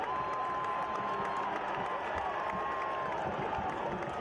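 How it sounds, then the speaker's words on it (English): Soccer stadium crowd of supporters massed behind the goal, a steady distant roar of cheering and chanting, continuous and fairly faint throughout. "Sean Suber, he's pumping up the crowd. The Steel Army there behind the goal"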